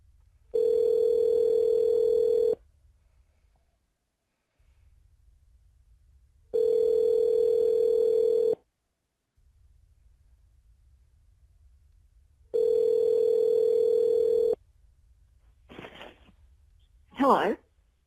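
A telephone tone during a call redial sounds in three steady, loud two-second bursts separated by quiet gaps, followed by brief rustling handling noises near the end.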